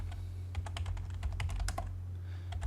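A shortcut typed on a computer keyboard in AutoCAD, heard as a quick run of crisp, close key clicks over a low steady hum, ending with a final tap.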